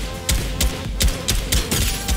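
Rifle fire in Fortnite, a new weapon: a string of about seven sharp, punchy shots at an uneven rhythm, close and loud, with no talk.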